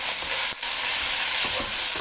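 Prawn biryani with lots of fresh mint and coriander leaves sizzles in a pan, a steady close-up frying hiss that runs unbroken throughout, with a brief dip partway through.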